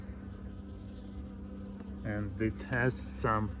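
Honey bees in a horizontal jumbo Langstroth hive keep up a steady low drone while someone talks over them near the end.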